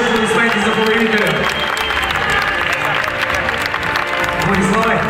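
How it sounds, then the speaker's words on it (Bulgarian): A boxing-style fight crowd cheers a technical-knockout winner with dense, sustained clapping and shouting. The roar stays loud and even from start to finish, with a voice faintly mixed in. "Уважаема публика, още веднъж аплодисменти за победителя."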